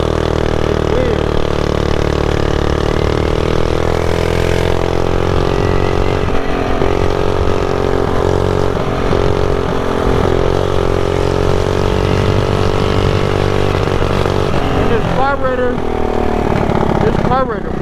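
A Predator 212 small engine on a budget build runs loud and steady with its throttle spiking in RPM, a rough continuous drone with surging pitch throughout, and speech comes and goes over it.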